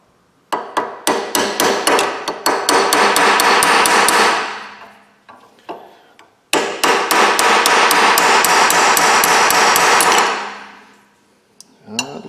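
Loud, close metallic hammer blows drive a brass chisel against the hydraulic steering cylinder of a Kubota BX22 tractor, in two long bursts of rapid, even strikes.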